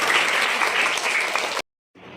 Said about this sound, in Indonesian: beri apresiasi, tepuk tangan untuk Akmal dan Mbak Dini